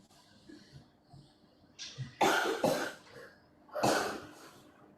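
A faint throat-clearing noise, then a burst of two hacking coughs and one more cough shortly after, close by in an otherwise quiet space.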